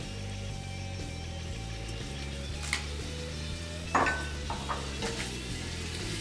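Coriander goes into a pan of frying okra, a steady soft sizzle with occasional stirring scrapes and utensil clicks against the pan, fairly quiet and close.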